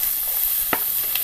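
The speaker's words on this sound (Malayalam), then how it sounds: "ചൂടായ എണ്ണയിലേക്ക് സവാള ചേർത്ത് കൊടുക്കാം" Chopped onion dropped into hot coconut oil in a pan, giving a steady close hiss of frying with a brief stir or clink partway through, no voices.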